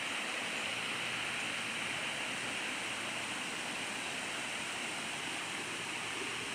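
Broad, steady rush of water from a rain-swollen waterfall stream in the rainy season, flowing toward the Pasak dam, loud and constant with no talking.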